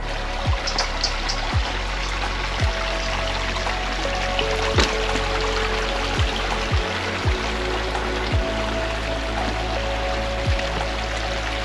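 Water trickling and flowing through a creek at a hiking-trail crossing after recent rain, a soft steady babble with occasional faint clicks and taps, fairly close and continuous with no talking.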